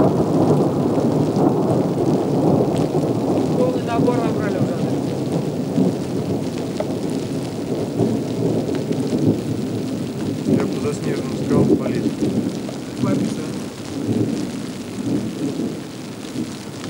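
A mountain thunderstorm in the Dombay area, with steady heavy rain and deep rolling thunder sustained throughout, loud and close, with faint voices underneath at times.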